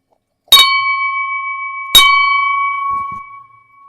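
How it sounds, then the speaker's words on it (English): A celebratory bell rung on a live stream gives two loud, close strikes about a second and a half apart, each leaving a long ringing tone that slowly fades, with a few soft knocks near the end. "That is the celebratory 20 bell because we have 22 viewers in the stream right now"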